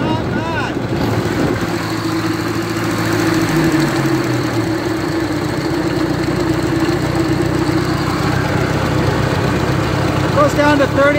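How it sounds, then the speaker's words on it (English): A 1953 Ferguson TEA20 tractor engine idling after an oil-gallery fitting was installed, a loud steady knocking chug with low rumble throughout, close by and uninterrupted. "So we'll start it back up and see what we got."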